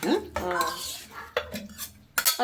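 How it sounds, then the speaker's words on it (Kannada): Cooked rice tipped into a pot of bisibele bath, with clinks and scrapes of a metal spoon against the pan, a few sharp knocks and stirring sounds close by. "ಈಗ ಅನ್ನ ಹಾಕ್ತೀನಿ"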